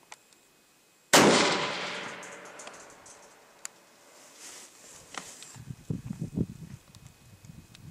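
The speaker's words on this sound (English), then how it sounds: "I'm ready to fire. 3, 2, 1." A single loud gunshot is fired at a homemade corn bag target outdoors, a sharp blast at about one second that decays into a long echoing tail, followed by soft rustling and footsteps.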